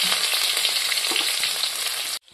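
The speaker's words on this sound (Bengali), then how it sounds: "পেঁয়াজ কুচি আর কাঁচা লঙ্কা ভাজা হয়ে গেছে" Chopped onion and green chilli fry in hot oil in a pan, giving a dense, steady sizzle that stays loud and even, then cuts off abruptly at the end.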